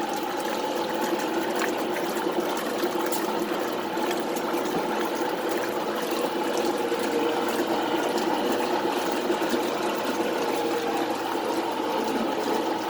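A washing machine runs with a steady churning, watery swish and pump hum, a continuous even drone at moderate level without talk.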